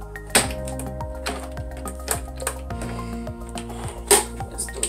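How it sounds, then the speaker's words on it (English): Dots being punched into photo paper for handmade cards, a crisp run of crunching mechanical clicks and thumps in an irregular rhythm, close and fairly loud with no talk. "it always sounds like that when it's a photo paper. Like, I guess it's crunching."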